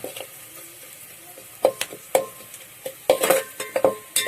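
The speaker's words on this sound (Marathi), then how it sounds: "तर हा सगळा मसाला थोडा वेळ तळून घ्यायचा आहे" Village-style masala frying in a pan for a spicy chicken curry, with a low steady sizzle and a few sharp scrapes and clinks of a spoon stirring in irregular bursts toward the end.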